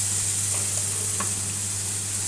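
Potato paratha batter sizzles in an oil-greased frying pan, a continuous close hiss with faint soft ticks and pops throughout, no voices.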